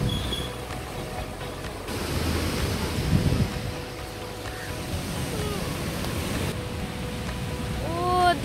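Ocean surf washing onto a beach in Sri Lanka forms a steady, fairly loud broadband roar throughout, with a brief voice emerging near the end.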